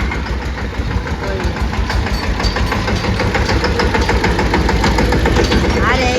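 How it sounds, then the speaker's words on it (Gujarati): A tractor engine idles nearby on a farm with a steady, loud, rhythmic chugging throughout, while people talk over it. "બાપુજી આવી ગયા છે વાડીએથી ટ્રેક્ટર લઈને"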